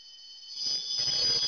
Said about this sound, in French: le réveil va de nouveau faire du bruit